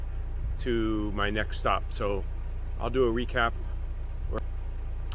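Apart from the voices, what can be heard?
car engine running at a campground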